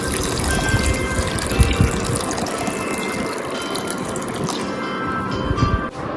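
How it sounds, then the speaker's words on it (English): Water pours continuously into a bowl to soak rice, a steady rushing splash lasting several seconds with no talking. "you're going to add water in this"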